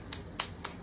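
Three sharp, bright claps spaced about a quarter second apart, moderately near, with a quiet room tone behind and no talking, given by a group singing praise songs at a daily gathering.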